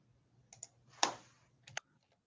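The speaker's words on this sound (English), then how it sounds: "all I'm doing is typing in the number and hit enter" A few quick key presses on a computer keyboard while numbers are typed in and Enter is struck, heard as sparse, close, light clicks and one louder tap in a quiet room.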